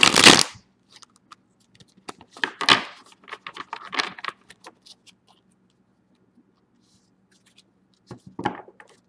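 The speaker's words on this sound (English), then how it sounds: "And here's a shuffle for sterilization." Tarot cards are shuffled in several close, crisp bursts of riffling and flicking, separated by quieter gaps with faint taps, and one last short shuffle near the end, with no voices.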